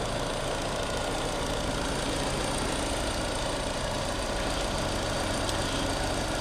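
A Peugeot 308 VTi 120, its 1.6 litre naturally aspirated petrol engine, idles steadily with a constant dense mechanical hum, close and unbroken throughout.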